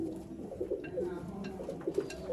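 Ferozpuri pigeons cooing close by, repeated soft throaty calls overlapping one another, with a faint voice in the background.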